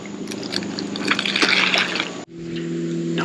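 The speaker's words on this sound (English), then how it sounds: "The waves crashing after a boat goes by sound just like a deer walking up behind you." Waves from a passing boat's wake wash and slosh against a shore or kayak, a steady broadband splashing that cuts off abruptly partway through, leaving a quieter hum.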